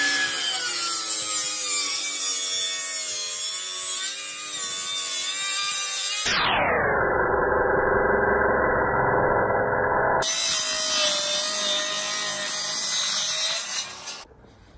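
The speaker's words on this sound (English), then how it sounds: "Then we can set the saw, the circular saw, at the angle that we need to take off" A circular saw cuts a timber sleeper at an angle, first a loud, rough grinding cut, then the blade spinning free with a falling whine, then cutting again before it winds down at the end.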